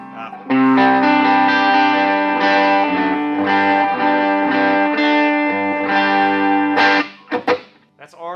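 An electric guitar on its bridge pickup plays sustained chords through a Vox AC30 amp on the clean channel, giving a bright, slightly overdriven tone before it cuts off into a few short plucks.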